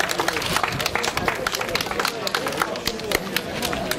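Outdoor applause at a hill-climb time trial cycling awards ceremony, a crowd clapping in a dense, lively patter of sharp hand claps, with voices chattering underneath.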